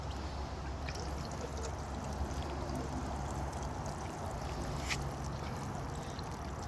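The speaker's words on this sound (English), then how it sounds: "you want to go ahead and water it in" Water soaks garden soil in a newly established vegetable garden after a feeding of Garden Tone fertilizer, heard as a soft, steady, continuous hiss of spray with no break.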